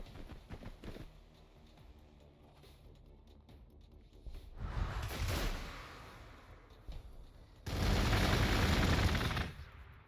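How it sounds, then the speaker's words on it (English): Gunfire from the sci-fi strategy game Warhammer 40,000: Gladius, with Sisters of Battle units opening fire: two loud sustained bursts, the first around the middle and a heavier one near the end, over a quieter background. "I guess we can just shoot you across the way here"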